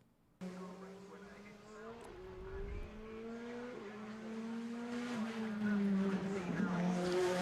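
Petrol BTCC Toyota Corolla race car driven hard: a strained engine note climbs through several gear changes, growing louder and nearer with faint tyre noise mixed in.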